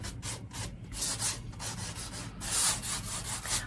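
Light hand sanding of a file cabinet with fine 180-grit sandpaper: soft, steady rubbing strokes in a close, even rhythm with no voices.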